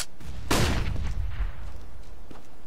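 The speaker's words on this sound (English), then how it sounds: "Throwing a flashbang" A flashbang grenade goes off in a video game as one sharp, loud burst that trails into a rumbling decay, with faint background game noise around it.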